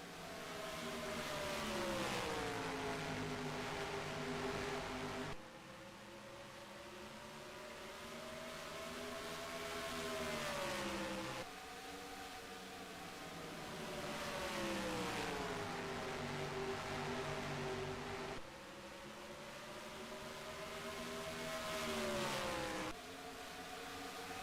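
NASCAR-style Cup Series stock cars race at Phoenix Raceway in a racing video game. Engine whines rise and fall as the field sweeps past in repeated waves, roughly every six seconds, at moderate distance.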